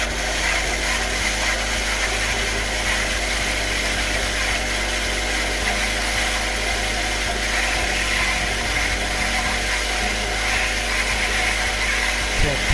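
A Karcher K7 Compact pressure washer runs steadily with a loud, unbroken motor drone and constant hiss of water flow, heard alone without any speech.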